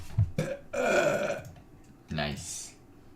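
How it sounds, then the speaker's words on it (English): One short, close burp amid casual talk during a World of Warcraft livestream, with a voice speaking before and after it. "Nice little burp."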